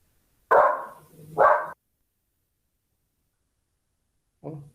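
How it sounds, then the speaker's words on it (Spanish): A dog barks twice in quick succession, close and loud, then falls silent before one softer bark follows after a long pause. "Marte, ya quería saber qué significaban dos ladridos"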